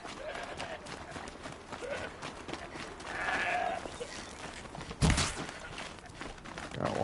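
A goat in the wilds of Horizon Zero Dawn lets out a single mid-distance bleat over windy game ambience, followed later by a dull thump.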